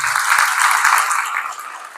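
An audience at a motivational church gathering claps, a brief burst of fairly loud applause that fades slightly over a couple of seconds.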